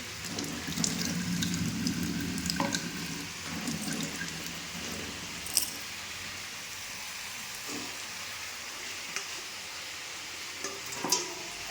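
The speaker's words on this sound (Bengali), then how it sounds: "মাংসগুলো যাতে ডুবে থাকে সেই রকম জল দেবো" Water pours into a pan of chicken curry, a soft continuous splashing gurgle that is busier at first, then thins into a quieter trickle with a few small drips and clinks, heard close with no talking.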